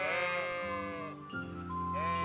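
Sheep bleating in the medieval video game Kingdom Come: Deliverance, a few loud, wavering calls close by with a short gap between them and nothing else heard.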